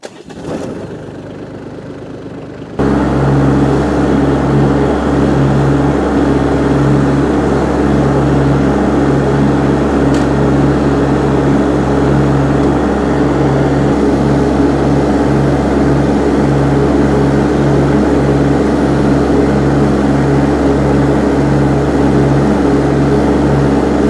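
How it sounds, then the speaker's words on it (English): An ISEKI SXG323 mower with a 600-litre grass hopper cuts grass; after a few seconds of quieter running the engine surges into a loud, steady, close drone that holds unbroken to the end. "I'm going to start the engine."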